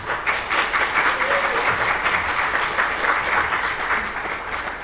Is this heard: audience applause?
yes